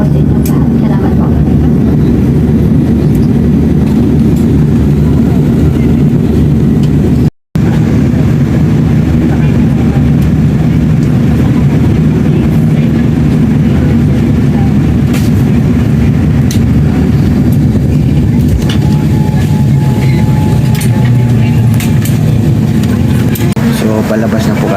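Steady low cabin rumble inside a Gulf Air airliner after landing in Bahrain, with engine and ventilation drone running continuously near and loud, passengers murmuring faintly in the background.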